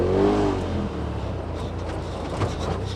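A 2018 Polaris RZR XP Turbo side-by-side runs steadily with a low, droning engine note and a slight swell near the start, a continuous rumble throughout.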